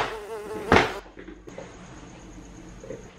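A mosquito buzzes close by in a thin, whining drone, cut by a sharp slap-like knock before the buzzing carries on more faintly.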